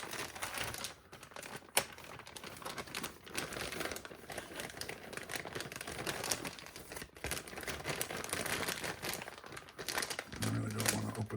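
Plastic parts packaging for a Tamiya TT02 Porsche 911 GT3 992 RC car kit crinkles steadily as it is handled and opened, close and continuous with dense rustling and small crackles, no talk.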